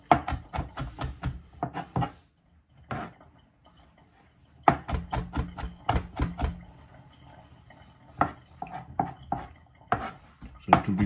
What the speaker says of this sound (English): while I'm chopping the garlic